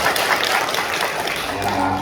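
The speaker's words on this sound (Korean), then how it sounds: "다시 박수 한번 주시죠." Church congregation applauding a choir at an elder ordination service, a steady wash of many hands clapping at moderate distance, with a faint voice and a low tone emerging near the end.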